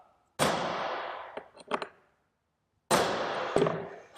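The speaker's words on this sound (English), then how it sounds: "we are going to center punch these holes" A hammer strikes a center punch against steel countershaft plates. Two sharp metallic blows ring out a couple of seconds apart, each decaying with a bright ring, and a few lighter taps follow the first.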